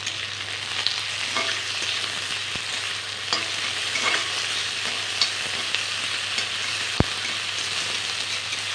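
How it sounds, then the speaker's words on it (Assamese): Chopped tomatoes fry in a pan, a dense steady sizzle lasting throughout with occasional faint stirring knocks and one sharp tap near the end, close up with no voices. "বিলাহীখিনি দি মই এইদৰে বিলাহীখিনি ভাজি ল'লোঁ"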